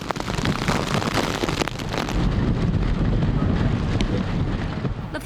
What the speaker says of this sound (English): Gusts pounded the area.